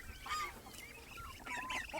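A French Toulouse goose on a farm honking in several quick, nasal calls, fairly close and clear, with bursts at the start and near the end.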